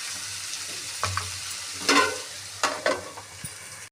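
Brinjal curry fries in oil as a close spatula stirs it in a few scraping bursts over a soft sizzle, with no talk, ending abruptly.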